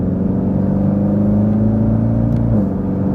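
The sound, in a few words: BMW E90 M3 with Akrapovic exhaust revving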